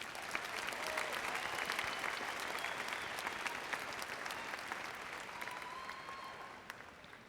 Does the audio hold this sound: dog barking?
no